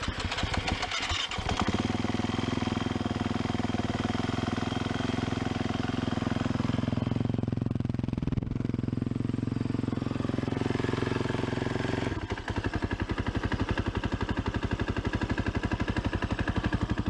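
A KTM 350 EXC-F motorcycle engine runs after a valve clearance check, idling close and loud with a steady rapid pulse that swells and settles in pitch over several seconds.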